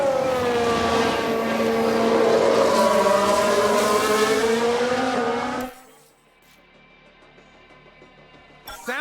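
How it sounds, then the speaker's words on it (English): Race cars in F1 Manager 22, 1991 season with Jordan, scream past loudly with rising and falling engine whine for several seconds, then cut abruptly to near silence followed by a faint thin tone and a short burst at the end. "Sounds like there's been a crash."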